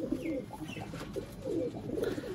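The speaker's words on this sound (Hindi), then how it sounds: "दोस्तों ये है जी छत वाले कबूतर माशाल्लाह प्योरिटी में" Soft, throaty coos of Sialkoti rooftop pigeons repeat in low rolling phrases, several birds overlapping close by with steady outdoor ambience.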